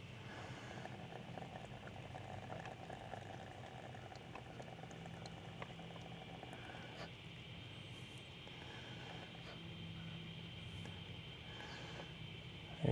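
Engine oil drains steadily from the 1.4L turbo engine of a Buick Encore or Chevy into a pan, a faint continuous bubbling, liquid trickle that goes on throughout.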